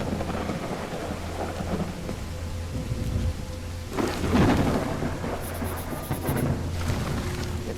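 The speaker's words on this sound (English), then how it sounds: "It's raining cats and dogs here." Heavy rain and rolling thunder in a video game, a constant hiss of rainfall with deep rumbles swelling around the middle, plus a brief faint high chiming near the end.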